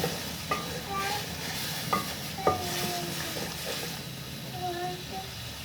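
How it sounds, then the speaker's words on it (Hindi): Masala fries in oil for a cauliflower and potato curry, a constant soft sizzle with the spoon tapping the pan a few times, and faint voices in the background. "तो जनाब ये देखें मैंने ये मसाला जो है अच्छे तरीके से भून लिया है।"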